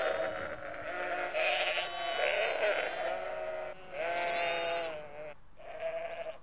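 A ewe calls for her lamb on a farm, giving several loud, wavering bleats in close succession, some drawn out and others shorter, with brief pauses between them.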